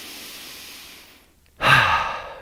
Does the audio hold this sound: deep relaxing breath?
yes